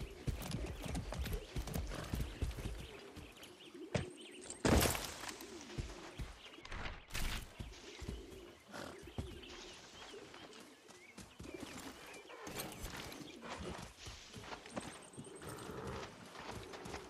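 Horse hooves clip-clop steadily in Far Cry 6 gameplay, with a few neighs and whinnies breaking through and faint bird calls in the background.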